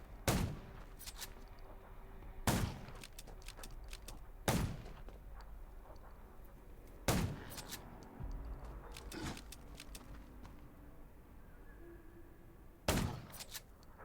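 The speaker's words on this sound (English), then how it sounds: "Gunshots will attract more zombies." Sharp gunshots crack out at irregular intervals in the zombie video game Undawn, about five loud bursts over a low rumbling background, with no talking.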